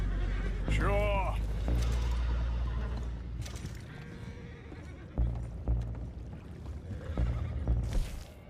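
Horse whinnies in Red Dead Redemption 2, a clear rising-and-falling neigh near the start over low rumbling game ambience, followed by scattered thumps and movement sounds.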